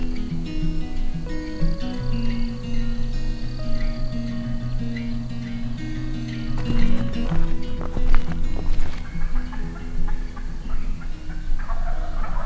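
Wild turkey gobblers in Tennessee countryside gobbling up close, several loud rattling gobbles in overlapping bursts with brief pauses between, some hooflike footsteps nearby and no talking.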